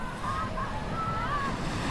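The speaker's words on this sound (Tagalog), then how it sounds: "dahil napakalakas ng alon" Strong ocean waves surging onto a rocky Greenland shore in winter, a steady loud roar of surf mixed with wind buffeting the microphone, no voices.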